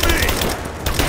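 Rapid automatic gunfire in a Lara Croft video game, a dense continuous burst of shots filling the whole moment at close range, with a voice mixed in.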